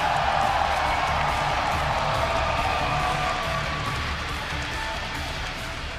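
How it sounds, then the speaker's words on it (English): Crowd cheering in the arena at a BlizzCon esports event, the StarCraft WCS Global Finals, a steady roar of many voices held at full loudness throughout and easing slightly near the end. "give a cheer for EG's Lee Jaedong!"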